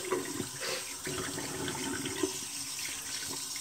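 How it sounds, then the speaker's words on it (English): A tap running steadily into a bathroom sink as the water warms before a wet shave, continuous moderate splashing and hiss, close by, with no talk. "Get the water warm."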